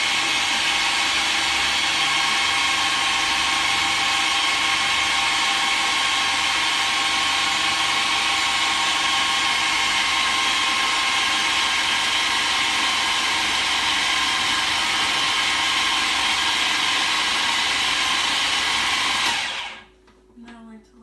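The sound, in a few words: food processor mixing hummus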